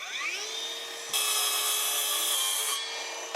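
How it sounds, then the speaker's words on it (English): A Ryobi track saw cuts through a laminate floor plank, its motor spinning up with a rising whine, then a loud, steady rasping bite through the board for about two seconds before the blade winds down. Close and alone. "we've recently acquired a Ryobi track saw, so we'll use that"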